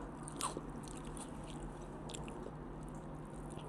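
Close, soft chewing and biting on spicy sweet-and-sour Korean bibim noodles dressed with vinegared chili paste, a few crisp bites standing out early over quiet room hum, with no talking.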